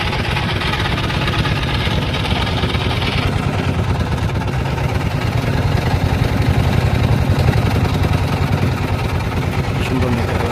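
A trawler's engine drones loud and close on a river near Sada Pathor in Sylhet, a constant low idling chug with water wash that continues unbroken throughout, with no voices standing out.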